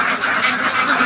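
Ducks quack together while being given feed powder at a farm, a close, loud cluster of overlapping nasal quacks filling a brief moment.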